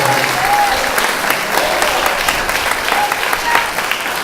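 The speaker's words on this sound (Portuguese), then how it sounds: "Vamos receber o homem de Deus aplaudindo e glorificando ao Senhor" A church congregation at a revival seminar breaks into steady, dense applause that fills the room, with faint voices mixed in beneath the clapping.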